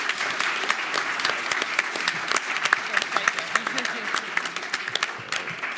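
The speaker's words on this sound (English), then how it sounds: "Please join me in a round of applause for our panelists." An audience at a live fertility-medicine journal club panel applauds the panelists, with many distinct hand claps forming a lively, even round of moderate loudness.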